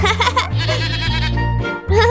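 Lamb bleating on a farm: a loud, close, wavering bleat that runs on for over a second, followed by a shorter second bleat.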